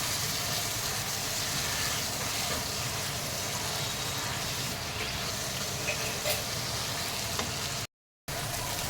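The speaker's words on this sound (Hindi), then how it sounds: "ये स्टॉक हम थोड़ा थोड़ा डालेंगे और ये मसाले को अच्छे से भूनेंगे।" Masala spices frying with vegetable stock for a shahi vegetable korma: a soft, steady sizzle in the pan, fairly quiet and continuous, with a brief gap near the end.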